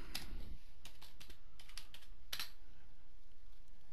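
Fingers tap a computer keyboard in short bursts of close, crisp keystrokes with small pauses between, then fall quiet for the last second or so.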